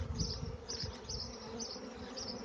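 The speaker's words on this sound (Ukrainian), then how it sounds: "Купа бджоли, бджола тяжка, бджола з медом нагружена." A dense, steady buzzing of a huge honeybee swarm, close and continuous, with low rumbling underneath.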